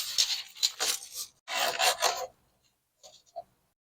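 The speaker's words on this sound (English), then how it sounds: "and then you cut the strip." Rasping, scraping strokes of a vinyl siding starter strip being cut, two bursts of sawing-like rubbing followed by a pause and a couple of faint short scrapes, close and moderately loud.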